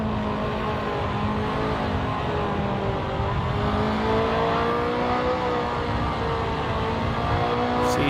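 A BMW GT race car engine in a racing video game drones steadily, holding a continuous whirring note with slight shifts in pitch, loud and alone without talk.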